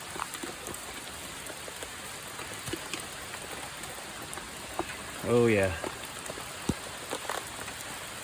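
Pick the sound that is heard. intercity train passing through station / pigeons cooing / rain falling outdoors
rain falling outdoors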